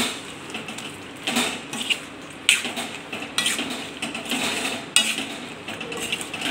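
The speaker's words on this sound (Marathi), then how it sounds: "हे जे शेंगदाणे आहे ते आता घालून घेते। आता हे छान असं पाकामध्ये मिक्स करायचं आहे आपल्याला।" Peanuts are stirred into sugar syrup in a metal pan while making gud-dani, with repeated scraping and clattering strokes of a spoon against the pan in an uneven rhythm, close and moderately loud.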